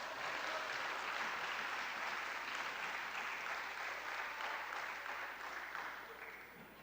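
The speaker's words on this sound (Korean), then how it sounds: "박수 한번 쳐요, 우리" A church congregation claps together in sustained, dense applause, steady for several seconds before tapering off slightly at the end, heard from a moderate distance with no voices on top.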